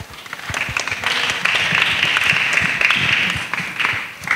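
Children at a church gathering with a pastor applaud loudly, a dense burst of many small hands clapping that swells quickly and holds steady for several seconds before easing slightly.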